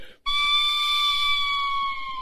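A steady, loud whistle holds a high pitch that sags slightly, like a slide whistle imitating an engine note.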